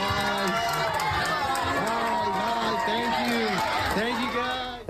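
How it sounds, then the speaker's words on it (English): Students and staff lining a school corridor in El Paso cheer and applaud passing veterans on Veterans Day, with many overlapping voices whooping and shouting in a continuous, echoing din. "You could hear the cheering going on."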